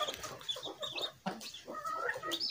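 A hen, a mother bird kept with her chicks, clucks in a steady run of close, clear calls, with no talking.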